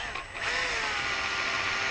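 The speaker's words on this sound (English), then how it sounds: "my favorite thing to do is drill guitars" A power drill bores into the body of an Epiphone Les Paul guitar, its motor whining steadily and loudly up close for the whole stretch after a brief spin-up.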